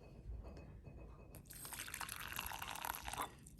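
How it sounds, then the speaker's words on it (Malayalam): Hot water poured into a bowl of yeast and sugar, a soft close trickling stream that starts abruptly and runs for about two seconds in a quiet kitchen. "ഈസ്റ്റ് എടുത്ത് വെച്ചിട്ട് കൂടെ കുറച്ച് ഷുഗറും കൂടെ ആഡ് ചെയ്തിട്ട് നമുക്ക് കുറച്ച് ഹോട്ട് വാട്ടർ ഒഴിച്ച് വെക്കാം"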